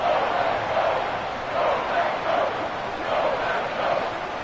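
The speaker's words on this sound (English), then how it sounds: "This crowd doing all they can." Stadium crowd in the football video game Madden 25 during a 49ers vs Packers game, a broad swelling roar that rises and falls in waves under the game's commentary.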